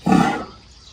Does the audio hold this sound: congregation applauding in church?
no